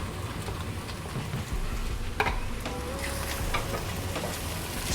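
Shallots going into a frying pan with garlic and fat for a carbonara-style pasta, giving a steady close crackling sizzle with light stirring scrapes throughout.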